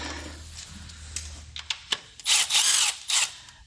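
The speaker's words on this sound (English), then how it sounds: "We can crack them open and use the power tool." A power tool whirs in several short bursts while working on a Toyota Prius engine intake, with clicks and mechanical clatter between, loud and close.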